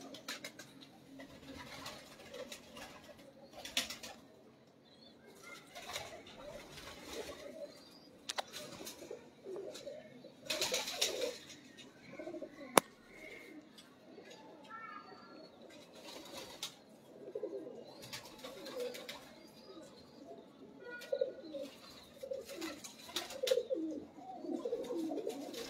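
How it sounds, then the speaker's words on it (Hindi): Pigeons coo softly, their low murmuring calls repeating close by in a quiet coop, with occasional wing flutters and scratching. "ये बड़े सियाने कबूतर होते हैं माशाल्लाह"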